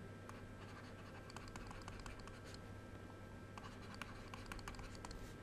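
Pen scratching across a surface during a Turkish microprocessors lecture, a steady run of close, dry strokes and taps lasting several seconds with no talk over it.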